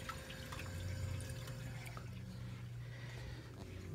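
Water in a 150-gallon reef aquarium sump system pumps over and returns, a faint, steady trickling and splashing with a low continuous hum underneath, no voices.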